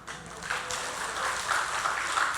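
A church congregation in Korea applauds together, a full, sustained round of clapping that swells slightly and holds steady from start to finish.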